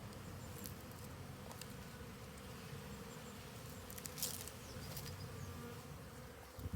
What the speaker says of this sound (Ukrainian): Бджола облітується.